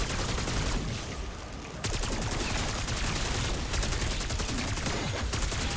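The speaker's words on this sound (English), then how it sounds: "And then I shoot zombie." Rapid, loud gunfire shoots at zombies in Call of Duty Black Ops 4 Zombies. The bursts are sustained and crackle up close, with a short pause and then more continuous shooting.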